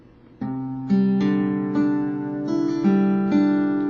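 A guitar chord from a song strummed and left ringing, followed by several more of the song's chords changing every second or so, clear and close with no voices.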